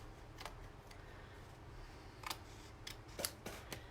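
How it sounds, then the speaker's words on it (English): Scissors for a Christmas card craft project are picked up and handled at close range, giving a few soft sharp clicks and taps against a quiet background. "Just get the scissors out."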